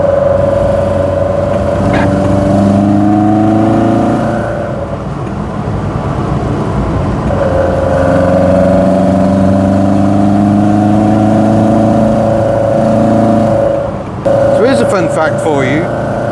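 A Fiat 131 Mirafiori Sport/Racing on twin Dell'Orto carburettors gives a loud, close induction roar, its engine note climbing in sustained pulls with brief dips between gear changes.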